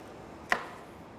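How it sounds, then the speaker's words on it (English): A knife cuts between beef rib bones in a single sharp, brief chop against a quiet background. "Align your knife, slice on through."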